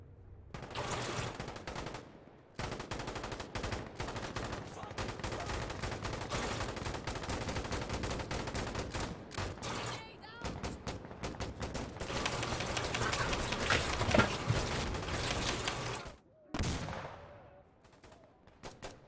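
Automatic weapon fire in the video game Insurgency Sandstorm, long sustained bursts of rapid shots emptying a full magazine, loud and close, with a brief pause partway and a short break near the end.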